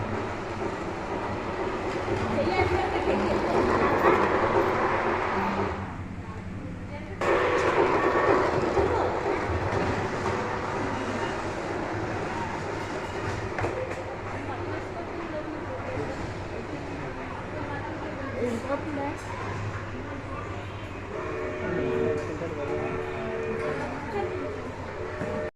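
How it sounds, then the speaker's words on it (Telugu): A train bound for Chennai pulls into a station near Kakinada, a loud, steady rumble of rolling wheels and carriages lasting about half a minute, with people talking over it. "ట్రైన్ వస్తుంది గైస్ చెన్నైకి."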